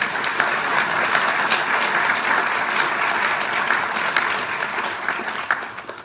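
Sustained audience applause fills an awards ceremony hall, dense and steady clapping from a large crowd that holds level throughout before thinning slightly at the end.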